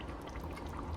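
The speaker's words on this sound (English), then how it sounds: "Now I'm gonna add the tomato sauce" Tomato sauce pours steadily into a pan for lasagna, a soft continuous liquid gurgle and splash, fairly quiet and close with no talking.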